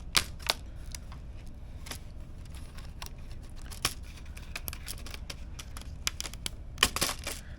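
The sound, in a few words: prying the back cover off an Asus Zephyrus G14 laptop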